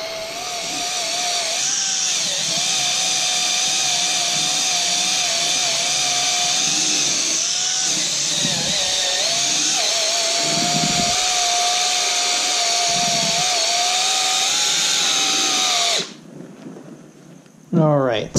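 A power sander working 2000-grit paper over a car paint run, a loud, steady droning whine held for about sixteen seconds with slight pitch wobbles, then cutting off abruptly into a brief quiet handling noise.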